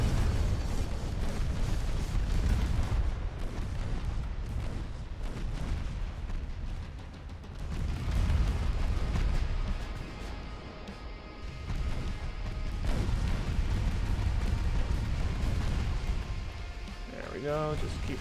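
Warship guns fire in the naval video game Ultimate Admirals: Dreadnoughts as a run of heavy booms and rumbling blasts that swell and fade over a dense battle background, with a voice talking over parts of it.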